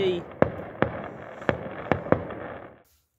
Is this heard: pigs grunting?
no